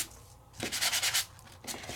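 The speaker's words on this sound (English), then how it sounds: "so let's sand it." Sanding a crafting paper panel with broadband scratchy rubbing strokes, a short burst followed by a sustained run of several quick back-and-forth passes, then a brief final stroke, close and moderately loud with no talk.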